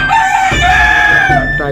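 A Tiger-breed rooster crows loudly and close by from a caged farm on the rooftop of a five-storey building in Dhaka: one long, drawn-out cock-a-doodle-doo filling the moment.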